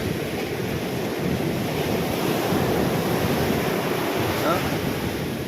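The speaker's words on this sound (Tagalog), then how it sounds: "Lakas ng alon." Rough sea during a typhoon: strong, heavy waves roar in a loud, unbroken wash close by, mixed with gusting wind buffeting the microphone and no pauses throughout.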